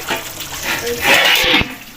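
Water is poured into a cooking pot on the stove in a short gushing splash lasting about half a second, set against quiet kitchen background.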